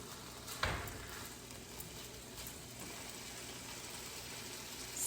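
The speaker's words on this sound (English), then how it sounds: "it's almost like searing it at the beginning, and then I put it on really low to cook" Meat sears in a hot pan with a steady, close hiss of sizzling oil, a brief louder crackle near the start and otherwise even frying throughout.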